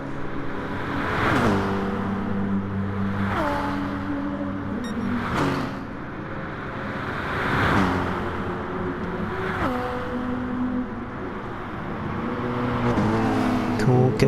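Gran Turismo Sport GR3 racing cars, including a McLaren, at St-Croix circuit: engines rev up and shift repeatedly in a rising, falling rhythm, loud and close, with cars passing by.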